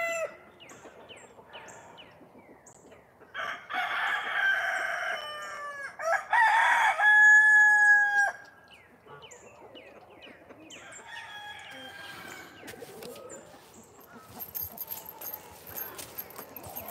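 Chickens on a trailer, with a rooster loudly crowing in long drawn-out calls and hens clucking at lower level, all close by outdoors.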